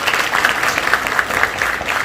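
Audience at a Punjabi theatre play in Phagwara claps steadily throughout, a dense, even wash of many hands without pause and with no talk over it.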